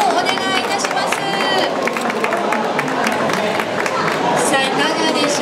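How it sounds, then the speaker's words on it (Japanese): Sustained applause and crowd noise from an audience at a Tokyo toy show, greeting a LEGO model of Hiraizumi's Chuson-ji Konjikido; dense steady clapping fills the clip at a constant level with a murmur of voices. "皆様ぜひ拍手をお願いいたします。"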